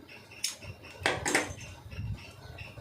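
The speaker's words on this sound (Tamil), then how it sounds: "இப்போ சென்டர் வந்து ஒரு சிசர் கட் போட்டுருங்க" Scissors cut through fabric for a sleeve, making a few crisp close metallic snips and clicks with no talking.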